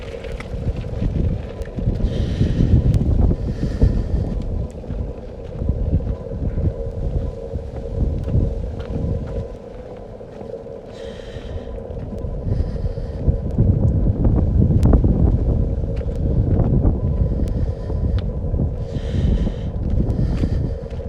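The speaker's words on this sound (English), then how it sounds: "It's slightly breezy, not bitingly so" Wind buffets the microphone beside the River Thames in Oxford, a loud, uneven rumble that rises and falls in gusts over twenty seconds with steady background noise, and no voices.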